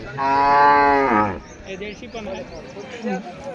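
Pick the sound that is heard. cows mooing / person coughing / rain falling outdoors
cows mooing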